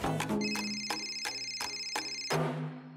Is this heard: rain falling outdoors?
no